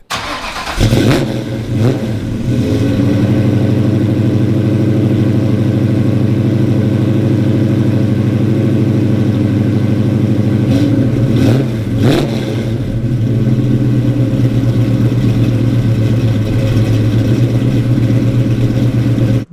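A 1970 Ford Mustang Fastback restomod engine starts and settles into a loud, steady, deep idle and drive-off drone, close and continuous, with a brief rev swell near the middle and no voices.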